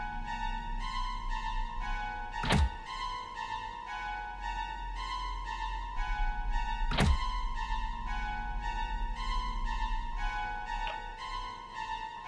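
A drawer in a video game scene gives two sharp, solid thunks as it shuts, set against a steady droning ambient hum, with no one talking.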